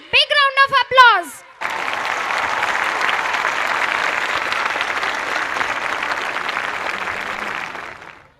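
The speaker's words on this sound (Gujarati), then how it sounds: "audience please, big round of applause" A short voice calls out, then a large audience bursts into loud, steady applause for small school children at a school event, lasting several seconds before fading.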